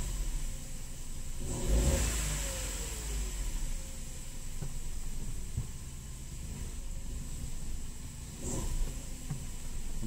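A three-cylinder Opel Corsa engine runs close by with steady noise, swelling with a couple of throttle blips and revs.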